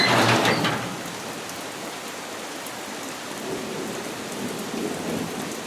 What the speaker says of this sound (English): The rain was blowing in so bad.